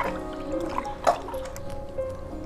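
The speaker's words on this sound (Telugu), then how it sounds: "ఇవన్నీ ఇలా పొట్టు తీసుకున్నాక బాగా ఒక 5-6 సార్లు శుభ్రంగా వాటర్లో కడుక్కోవాలి" Peeled taro being washed in a bowl of water, with small drips and splashes, a brief louder slosh in the middle and light squishy handling sounds close by.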